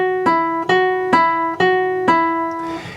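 Clean guitar pull-offs ring out in five evenly spaced, crisp attacks, each note sustaining clearly into the next before a final fade, close and clear with no voice.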